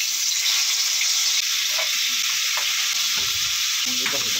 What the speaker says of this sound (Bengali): মাখিয়ে আমি মাছগুলো ভেজে নেব।